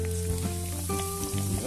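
Breaded tonkatsu pork sizzles and crackles steadily in hot oil, a close, continuous frying hiss with faint bubbling throughout.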